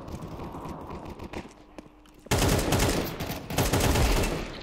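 Gunfire in Counter-Strike 2 during a first match: sparse, muffled shots give way halfway through to a loud, dense burst of rapid automatic fire that continues to the end.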